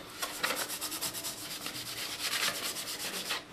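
An aircraft cowl is buffed by hand with a cloth or pad, giving a steady, rhythmic swishing rub in quick back-and-forth strokes, close and moderately quiet, with no talking.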